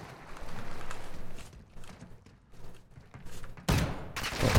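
Gunshots ring out in the DMZ shooter game, a burst of rapid, loud cracks near the end following quieter scattered shots and footsteps earlier on.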